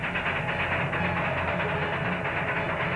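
A train running steadily in a Western setting, a continuous dense rumble with a faint rhythmic rattle throughout, fairly loud and unbroken with no voices.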